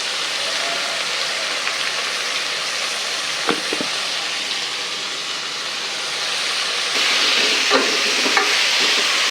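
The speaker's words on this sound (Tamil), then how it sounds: "வெங்காயம் நல்லா வதங்கியாச்சு." Onions sautéing in a pan for mutton chukka, a dense continuous sizzle and hiss that swells louder near the end, with a few clinks of a stirring spoon, close up and no talking.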